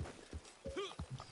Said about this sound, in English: Do you like my horse?